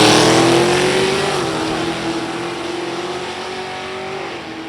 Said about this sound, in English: Bobby Bishop right side, the 289 Mustang.